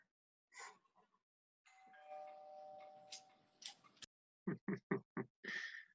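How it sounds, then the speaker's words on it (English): A doorbell chimes faintly during an online board meeting, its ringing tone sustained for a moment. Brief bursts of talk and a run of sharp clicks follow. "the doorbell timing was perfect"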